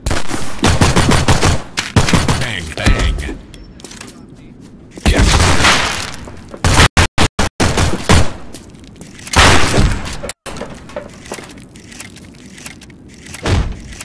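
Video game gunfire from Postal 4: loud bursts of shots in quick succession, with rapid stuttering runs and pauses, mixed with other game effects.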